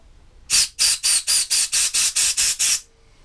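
Compressed-air gun blowing through a part from a Honda Lawn Flite 553 HWS lawnmower that is hunting, nine loud hissing bursts in a quick even rhythm, then quiet.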